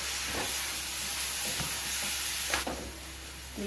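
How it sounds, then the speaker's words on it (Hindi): Chopped onions fry in hot oil with bay leaves and whole garam masala spices, giving a steady loud sizzle and hiss broken by a few soft clunks of stirring. "देखिए सबसे पहले प्याज को भून लेंगे, प्याज डाल दिया है।"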